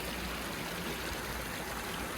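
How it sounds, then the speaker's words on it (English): A small creek trickles and babbles steadily near a hiking trail just before a highway crossing, a constant close wash of water with no voices. "Cute little streams, creek, right before crossing over to US 19E."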